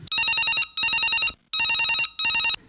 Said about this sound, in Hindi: कोनो फोन आते